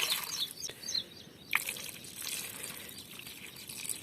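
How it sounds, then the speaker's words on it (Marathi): Water is poured into a kadhai to boil potatoes, giving a faint, hissy trickle and splash that runs for a few seconds, with no talking. "त्यामध्ये शिजण्यासाठी पाणी टाकायचं आहे"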